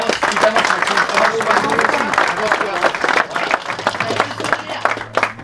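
Crowd applause for a cyclist at a cycling club's rider presentation, busy clapping from a nearby audience running continuously, with an announcer's voice talking over it.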